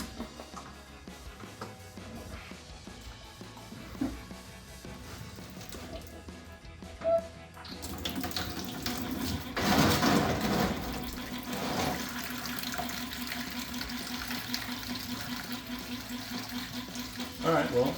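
Coolant drains from an aluminum radiator on a 2009-2017 Hemi Charger after the petcock is pulled out, starting as quiet trickling and becoming a steady, louder rushing pour of liquid that continues to the end.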